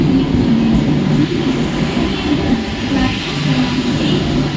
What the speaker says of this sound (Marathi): 10 hours 11 minutes new local for Dombivli is arriving shortly on platform number 1.